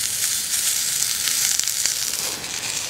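Pre-cooked little smokies sausages sizzle steadily in a hot pan, a close, continuous crackling hiss with small pops and no voices.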